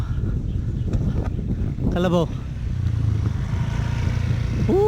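A motorcycle engine hums along a rural village road in Barangay Inmalog, San Fabian, Pangasinan, a steady low drone under wind and a person talking nearby.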